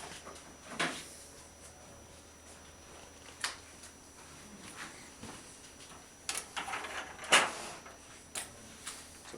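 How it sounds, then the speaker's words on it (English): The roll 2 cover of an HP Designjet T1300 printer is handled and shut, giving several faint plastic clunks and knocks, one firmer thud near the end, over a quiet machine hum. "now it's telling us to close the roll 2 cover"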